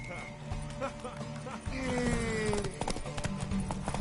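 Rapid clip-clop of horse hooves at a gallop in The Witcher 3: Wild Hunt, fairly close, with voices and other game sounds mixed over the steady hoofbeats.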